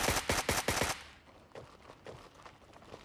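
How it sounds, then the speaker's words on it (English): An AK rifle firing in Gray Zone Warfare, four quick loud shots in a row, followed by quieter footsteps and faint distant pops. "Pretty sick sounding AK there"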